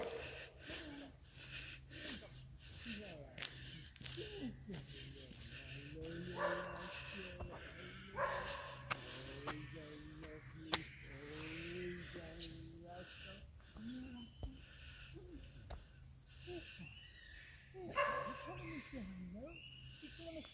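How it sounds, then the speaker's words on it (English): Several dogs bark and yip intermittently in the distance on a residential walk home, short barks scattered across a quiet outdoor background with faint birds. "One starts barking, they all start barking."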